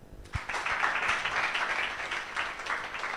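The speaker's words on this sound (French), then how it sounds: "est-ce qu'on peut applaudir très fort pour les panélistes?" Applause for the panelists at a breast cancer training seminar: a moderate crowd claps steadily in a dense, continuous patter that starts quickly and holds without fading, heard from across the room.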